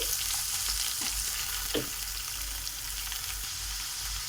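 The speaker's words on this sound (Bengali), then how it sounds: "দুটো কাঁচা লঙ্কা দিয়ে প্রথমে বিন কড়াইগুলো ভেজে নিচ্ছি" Green beans or peas frying with two green chillies in a pan for a winter-vegetable chowmein, a steady close sizzle with a few scraping stirs of the spatula and no talk.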